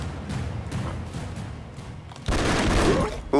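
Rapid gunfire bursts and a heavier booming blast from the video game Broforce, choppy and loud, with a voice talking between the shots.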